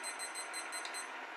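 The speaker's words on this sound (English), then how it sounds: "so we're going to set our 20-minute timer." A 20-minute kitchen timer beeps in a rapid, regular series of high electronic tones, close and moderately loud, with no talking.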